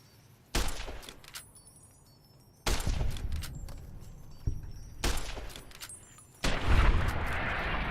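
Loud gunfire from Fallout New Vegas: a few sharp, close shots spaced a second or two apart, each with a short ringing tail, and a denser burst of noise near the end.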